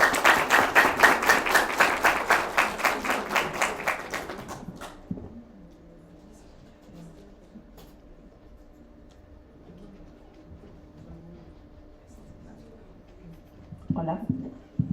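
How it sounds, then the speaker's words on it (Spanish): An audience at a community health talk gives a doctor a loud round of applause, dense rhythmic clapping for about four seconds that fades out. Quiet room noise follows, then a voice begins speaking near the end. "Le damos un fuerte aplauso a la doctora."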